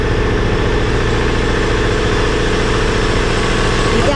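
An electric water pump runs continuously while filling an upper tank at a house, a loud, steady motor hum and rattle close by with no break and no speech.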